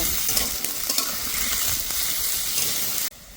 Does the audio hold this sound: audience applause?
no